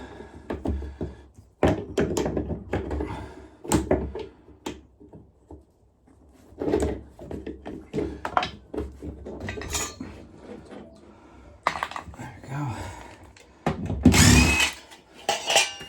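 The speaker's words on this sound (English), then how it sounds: "New valves on this one as well, so get them off." Old valves being worked off a convector radiator during a replacement, with clanks of metal tools and fittings, scraping and short bursts of mechanical noise, loud and close, coming in irregular clusters without talk.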